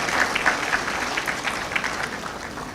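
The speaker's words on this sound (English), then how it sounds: "I think we should give the Bank of Ghana a round of applause" An audience at a graduate congregation ceremony gives a round of applause: a steady wash of many hands clapping, moderately loud and fairly uniform, easing off slightly toward the end.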